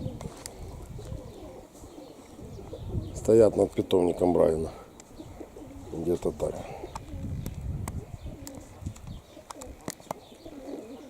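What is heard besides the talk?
pigeons cooing by a pigeon loft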